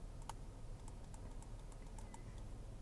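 Soft keyboard typing, a loose string of quiet key clicks at an irregular pace over a low steady hum, with no voices.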